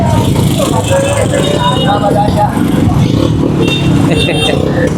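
Congested road traffic of cars and motorcycles, a close, continuous mix of engine rumble and revving, with people talking over it.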